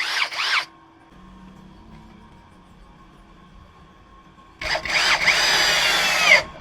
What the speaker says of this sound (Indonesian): Langsung saya akan penyekrupan.